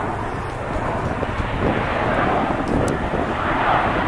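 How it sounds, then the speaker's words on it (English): A plane taking off at an airport on Jeju Island, Korea, heard as a steady, broad engine roar in the distance, with wind noise against the microphone. "you can hear another plane is taking off."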